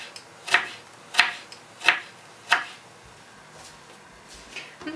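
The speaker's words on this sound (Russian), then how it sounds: "Морковочку нарежем соломочкой." A knife chops carrot into thin julienne strips on a cutting board for chicken noodle soup, four sharp evenly spaced cuts ringing out close and clear, then quieter fainter taps.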